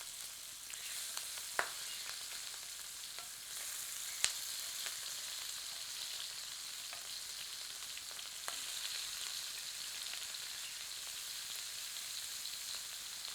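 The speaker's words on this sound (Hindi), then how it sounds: "जब इसमें से धुआं निकलने लगे तो तेल में प्रॉन्स को हल्के तौर पर आंशिक रूप से तलते हैं" Jumbo prawns shallow-frying in smoking-hot coconut oil, a steady, faint, even sizzle with a couple of brief sharp pops and crackles.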